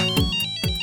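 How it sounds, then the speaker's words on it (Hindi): A phone ringtone sounds an incoming call in a domestic comedy scene, a loud, close electronic melody of bright repeating tones with two strong pulses in quick succession. "अरे हर्षिता, बहुत सालों बाद फोन किया।"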